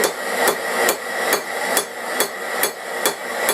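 A hammer strikes hot metal at a forge to flatten it, landing eight sharp, ringing blows at an even rhythm about every half second over a steady background roar.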